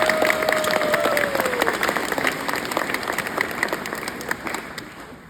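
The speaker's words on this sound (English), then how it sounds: "So a huge round of applause." An audience applauds at a college graduation ceremony, dense sustained clapping that fills the room for several seconds and slowly tapers, with no talk over it.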